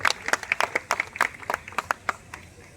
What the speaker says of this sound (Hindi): ताली बजाकर स्वागत करता हूं